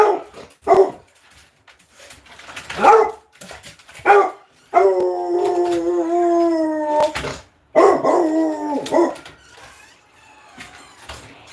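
A bulldog howls in long, wavering drawn-out tones, broken by sharp close barks and whimpering yelps, loud and up close with no talking.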